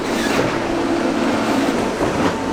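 A train carries cars through the Eurotunnel, heard from inside as a loud, steady rumbling drone with a faint low hum, continuous and without pauses.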